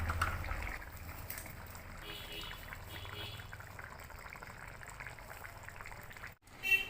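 Crab curry simmering uncovered in a pot on the stove, bubbling steadily as its cooking water boils off, a continuous low bubbling and sizzling texture with a brief dip near the end.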